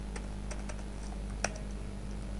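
Rapid keystrokes on a computer keyboard while entering a MySQL query, a steady run of close, crisp taps with one sharper clack midway, over a constant low hum and no voices.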